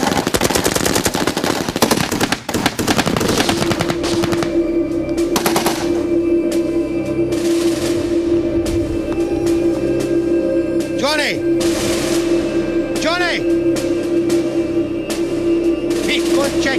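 Machine gun fire in a close-range firefight, loud rapid bursts crackling at the start and then giving way to a steady engine drone with occasional sweeping, wavering tones and scattered distant shots.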